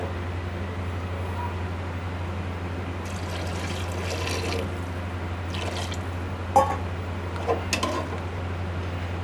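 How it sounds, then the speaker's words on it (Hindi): Water poured into a pot of chana dal and meat, a soft trickle and a few splashy drips over a steady low kitchen hum. "और थोड़ा सा पानी इसमें और ऐड करेंगे।"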